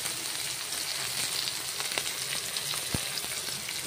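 Chopped onions sizzle and fry steadily in a hot pan while a Rou fish curry is cooked in Assamese style, a dense continuous crackle with occasional sharper pops, close and alone without talk.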